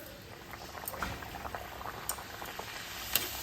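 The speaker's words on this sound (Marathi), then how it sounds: "कढईत तेल घेतलेलं आहे, तेल चांगलं तापलेलं आहे. आता पुरी घालते." Puri dough slips into well-heated oil in a kadhai, bubbling and crackling steadily at close range with small spattering pops, fairly quiet overall.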